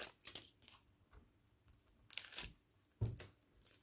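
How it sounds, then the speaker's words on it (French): Protective backing peeled from double-sided tape while assembling a scrapbook photo album kit, producing a few quiet, close tearing rips with soft crinkling between them. "Là, on enlève la protection du double face."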